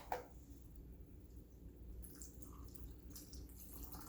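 Chicken broth is poured into a canning jar of cubed chicken, a soft, continuous liquid splashing and gurgling with a small knock at the start, quiet and close, without any talking.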